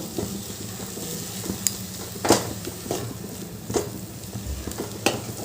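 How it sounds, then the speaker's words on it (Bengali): Grated pumpkin with a pinch of salt is stirred in a hot pan: a soft sizzle runs underneath while a utensil scrapes and clinks against the pan in several irregular strokes. "দিয়ে ভালো করে এটা নাড়াচাড়া করতে হবে কুমড়োর কাঁচা ভাবটা চলে যাওয়া পর্যন্ত"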